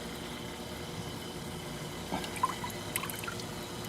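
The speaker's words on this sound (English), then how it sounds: "We got a little water coming out of the tube." Water dripping and trickling out of a cheap DIY venturi valve tube in a desert aquaponics setup, a few faint drips and splashes over a constant background hum.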